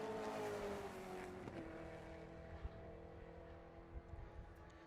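Toyota Corolla race car lapping a track during qualifying at the NZ Endurance Championship, its engine note rising and falling through gear changes as it passes, fairly distant and fading, with a brief knock.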